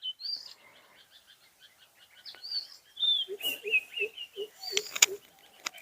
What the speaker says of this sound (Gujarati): પક્ષીઓ, આટલા બધા પક્ષીઓ તો ક્યાંય તમને સિટીમાંય નહીં સાંભળવા મળે.